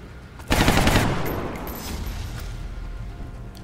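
A loud gunshot burst in the XCOM Long War video game, a sharp close blast with a rattling edge that decays into a lingering rumble of game ambience.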